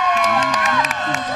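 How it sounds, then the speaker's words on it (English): Homecoming football crowd at a Parish Episcopal game roaring and cheering steadily from the stands, with shouts rising over a dense, continuous wash of noise and voices mixed in. "The crowd is wild."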